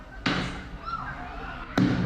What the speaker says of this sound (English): once again a place where young people gathered, shooting fireworks dangerously this past Canada Day